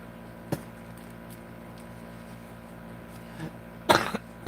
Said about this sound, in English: I'm sorry for the coughing during my lives